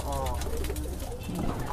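Pigeons cooing in a farm loft, soft repeated coos close by, with voices talking over them throughout.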